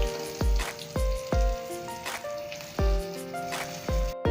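Stuffed bitter gourd frying in hot oil, a steady sizzle punctuated by several sharp crackling bursts at irregular intervals, close and moderately loud with no voices.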